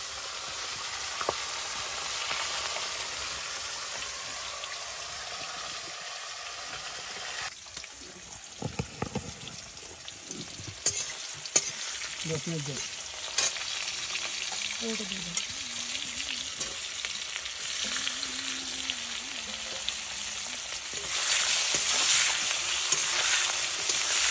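Fish curry cooking in a pan, a steady frying sizzle with stirring and scraping throughout, louder toward the end, with occasional faint voices in the background.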